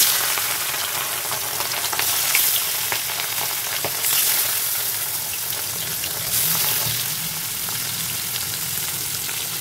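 Fish curry (macher jhol) cooking in a pan on a home stove, a steady close sizzle and bubbling with faint stirring scrapes throughout, no voices.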